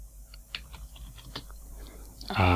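Computer keyboard being typed on as a command-line instruction is entered, a short run of light, irregular key clicks close to the mic, ending in a sudden louder burst.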